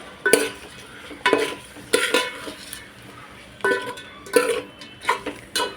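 Red chilli powder, coriander powder and turmeric are stirred into a hot pan for masale bhat, with a spoon scraping and clinking against the metal in irregular bursts over a faint frying hiss.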